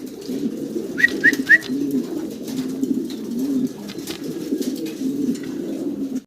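Fancy pigeons at a pigeon farm coo in a low, continuous, overlapping murmur, with a few sharp high chirps near the start.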